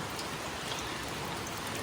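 Rain falls steadily in Ban Sawan, a rural rice-field area, making a dense, even hiss of drops on surfaces that continues close and constant with no talking.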